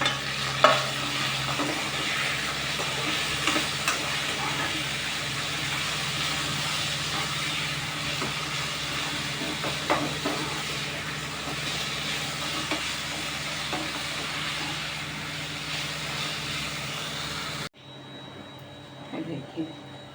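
Bhaji greens cooking on low heat in a pan for Sindhi upma give a steady, dense sizzle throughout, with occasional stirring scrapes, before the sound drops to a quieter hiss near the end.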